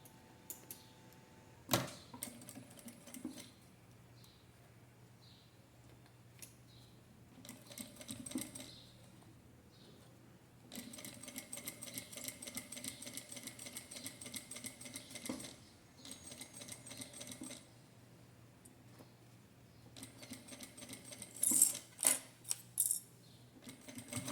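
A sewing machine stitches a fabric phone holder in several bursts of rapid, close mechanical chatter, separated by quiet pauses and small handling clicks.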